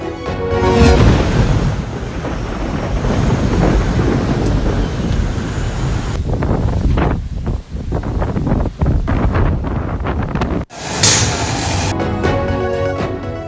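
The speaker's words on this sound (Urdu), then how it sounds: "کراچی میں آندھی اور طوفان، درخت اکھڑ گئے" Thunderstorm in Karachi with heavy wind and rain, a loud continuous roar of gusts and downpour buffeting the microphone, broken by sharper cracks and a short cut before the storm noise resumes.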